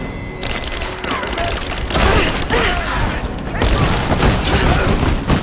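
Gunfire in Rise of the Tomb Raider on PS4, dense rattling volleys and booming thumps blending into a continuous loud battle roar with no clear pauses, shouted combat voices mixed in.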